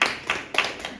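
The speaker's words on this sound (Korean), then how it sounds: "우리 박수 한번." Congregation in a church giving a short burst of applause, a few separate claps over about a second, moderately close.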